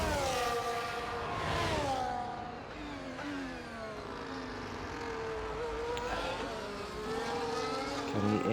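A race car in a racing video game accelerates and shifts through gears as it rounds Ascari at turn 13, its engine whine rising and falling steadily and fairly loud, with no talking.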